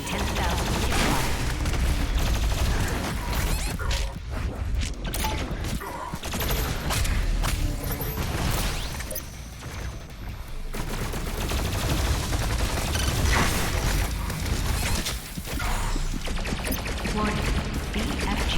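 In a video game, a BFG 10,000 fires amid a dense, continuous barrage of rapid blasts and rattling gunfire. The loud roar keeps going with only brief dips.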